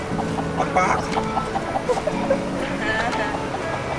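Chicken clucks, short and repeated in an irregular rhythm, sit over a steady low mechanical hum with a busy outdoor background.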